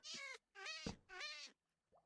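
A cat in the Minecraft video game meows three times in quick succession, each cry clear and upfront, followed by a short faint sound at the end.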